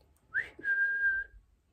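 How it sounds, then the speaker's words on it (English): A person whistles two notes close by: a short rising chirp, then a longer held tone that fades out. "you can whistle a tune to them"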